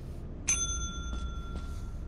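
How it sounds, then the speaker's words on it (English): A single bright ding of a small bell in the game Lethal Company, sharp and ringing with a clean lingering tone, followed by two fainter taps, heard alone over low background hum. "Did it ring its own bell?"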